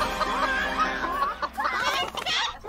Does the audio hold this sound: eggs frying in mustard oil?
no